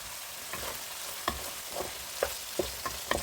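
Glass noodles in oyster sauce stirred as they fry, a steady sizzle broken by several sharp scraping stirs of the spatula at an irregular pace, close and moderately loud with no talking.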